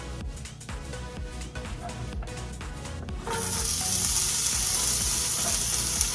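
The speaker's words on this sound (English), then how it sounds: "Let's drop our veggies in there." Vegetables dropped into a hot skillet burst into a loud, steady sizzle after a few seconds of quieter clatter and crackle.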